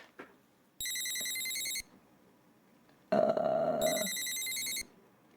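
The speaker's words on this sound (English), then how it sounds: "what sounds kind of like a phone ring in the background" A chirpy electronic ring, meant as crickets in an NES video game and resembling a telephone bell, sounds in two separate bursts of about a second each, the second layered over a louder, noisier sound.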